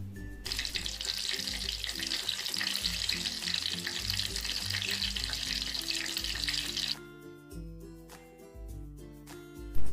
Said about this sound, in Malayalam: തൊലി കളഞ്ഞ ഉരുളൻകിഴങ്ങ് ഇതേപോലെ കനം കുറച്ചിട്ട് കഷ്ണങ്ങളായിട്ട് അരിഞ്ഞെടുക്കുക ശേഷം അതും മാവിൽ മുക്കി പൊരിച്ചെടുക്കുക